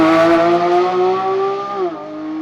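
A 2022 Porsche 911 GT3 engine revs hard during a launch and steadily climbs in pitch, then drops abruptly as it shifts, heard up close.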